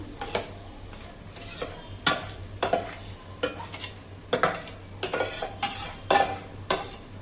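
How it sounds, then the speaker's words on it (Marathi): A spatula stirs mashed boiled vegetables into oily masala for pav bhaji, making repeated close scraping strokes against the pan over a soft sizzle, in an uneven rhythm with no voices. "आणि त्याला एक चांगलं असं मिक्स करून घेऊया."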